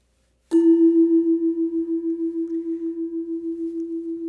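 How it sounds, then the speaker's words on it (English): A single struck note deng on a Balinese gamelan, sounding as two paired tones that beat together, rings out strongly and alone, pulsing with a steady, even wobble as it slowly decays over several seconds. "you can hear the beating is quite obvious."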